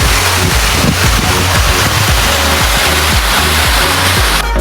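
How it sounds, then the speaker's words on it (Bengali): Mountain stream on a rocky trail in Korea rushes over stones in a loud, steady, broadband roar, close and continuous with no voices. "আহা জিরির জলের কত সুন্দর শব্দ"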